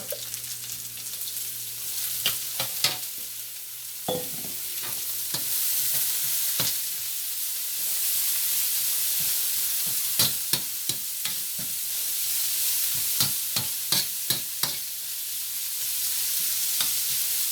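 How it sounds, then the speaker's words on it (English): Celery and carrots frying in a pan for restaurant-style chicken chow mein, a constant sizzle broken by sharp clattering stirs and spatula knocks in irregular bursts, close up. "we're gonna go ahead and add our celery and our carrots. Get that on in there."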